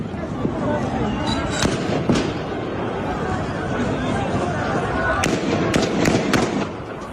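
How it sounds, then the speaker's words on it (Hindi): Sharp gunshot cracks ring out, a few isolated then several in quick succession, over a murmur of distant crowd noise. "गोलियां बरसाई जा रही हैं"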